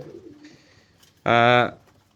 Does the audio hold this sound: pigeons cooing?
yes